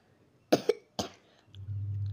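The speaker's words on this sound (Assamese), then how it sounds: "এতিয়া মোৰ কাহো আছে অকণমান" A person recovering from a fever coughs sharply, a quick double cough followed by a single cough, then a low steady hum remains.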